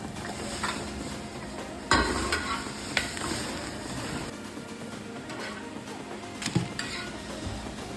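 Onion paratha cooking on a hot pan for a breakfast of paratha and curd, with a steady low sizzle, occasional clinks and stirring knocks of utensils against the pan, and no talking.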